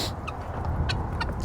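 A small flock of turkeys being shooed out of a spot gives a few quick gobbling clucks close by over a rough outdoor rustle.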